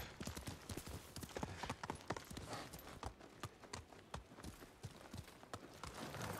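Hooves of a horse in Ghost of Tsushima clip-clop in a steady, quick rhythm of sharp knocks, continuous and close, over faint background ambience.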